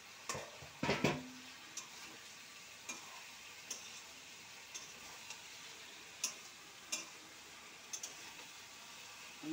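A fish head is stirred in a pot over a faint, soft sizzle, with sparse light ticks and taps from the utensil against the pot at irregular intervals, quiet and close, with no talking.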